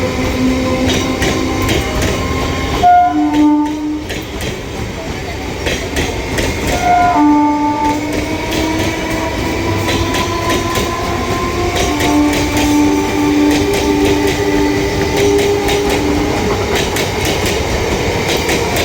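A train arriving at a platform of Ranaghat Junction at night: a loud, steady rolling rumble with rhythmic wheel clatter and sustained tonal squeals or horn notes, heard up close and continuous throughout.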